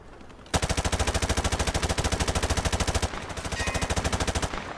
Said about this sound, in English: Grab that weapon off the table and fire at the targets behind you. Turn around and fire at the targets.